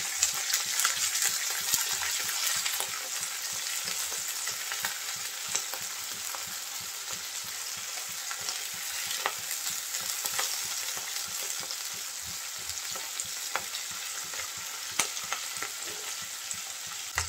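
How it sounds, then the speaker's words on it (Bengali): Small cleaned shrimp fry with onion and garlic in a pan, giving a continuous close sizzle with crackling pops and occasional stirring scrapes, steady and unbroken for the whole stretch with no talking. "পেঁয়াজ রসুনের সাথে চিংড়ি একটু ভেজে নেব।"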